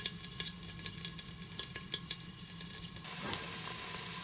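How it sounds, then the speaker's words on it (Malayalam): Dried red chillies and spices frying in a pan for a Kerala beef curry: a continuous soft sizzle punctuated by scattered light clicks and scrapes of stirring, with no voices. "ഇതിലേക്ക് നമുക്ക് ഉണക്കമുളക് ചേർത്ത് കൊടുക്കാം."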